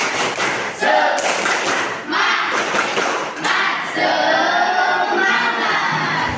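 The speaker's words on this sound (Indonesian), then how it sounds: "Tepuk semangat!" A classroom of students performs the rhythmic 'tepuk semangat' clapping chant, loud group claps punctuated by shouted chant words from many young voices, steady and energetic throughout.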